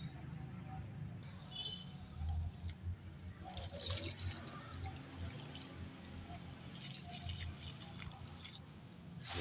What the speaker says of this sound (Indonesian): Jangan lupa langsung disiram teman ya.